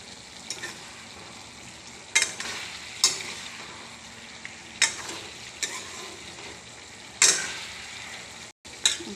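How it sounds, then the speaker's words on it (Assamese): Meat simmers in a pot while being stirred, a low bubbling sizzle broken by several sharp scraping clanks of the spoon against the pot at irregular intervals, with a brief silent gap near the end. "অলপ লৰাই দিম এতিয়া।"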